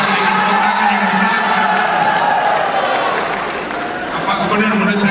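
Audience applause at a political debate in Maluku for a Democratic Party presidential convention, a steady, dense wash of clapping from a crowd that holds for several seconds and dips slightly near the end.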